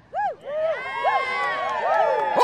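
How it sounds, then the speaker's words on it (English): A small crowd of ketchup fans lets out a big cheer, with several rising and falling whooping voices that swell briefly and then keep going under a continuing chorus of excited shouts. "Oh, a big cheer from the ketchup contingent."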